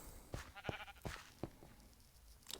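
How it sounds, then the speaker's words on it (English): Sheep bleating on a farm in a video game, several short bleats in quick succession, fairly close and moderately loud over a soft background. "Got our sheep farm."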